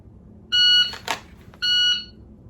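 Two sharp electronic beeps from a shot timer during dry-fire practice, each lasting about a third of a second, with a brief clatter between them, close and loud.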